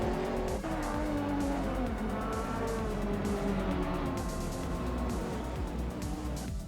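Race cars in a racing video game, including a Lamborghini Gallardo and an Aston Martin, roaring close with overlapping engine notes shifting pitch and tyres squealing as one moves past another, loud and continuous.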